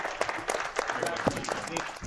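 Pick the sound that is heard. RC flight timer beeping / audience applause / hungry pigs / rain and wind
audience applause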